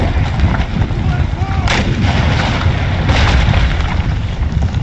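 Dense, loud, continuous battlefield din of musket volleys and artillery fire in Empire: Total War during the Battle of Quebec, with overlapping booms and crackling shots throughout.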